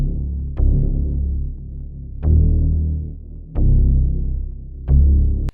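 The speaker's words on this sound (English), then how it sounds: "I added this bass line right here, and this is just a sound in trillion" A deep synth bass patch from Trilian in a hip-hop beat plays four loud, sustained low notes with sharp attacks and short gaps between them. The notes are dry and heard alone.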